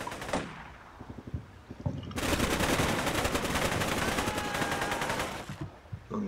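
Video game gunfire: a few scattered shots at first, then a dense, loud burst of rapid automatic fire that runs continuously for several seconds before cutting off.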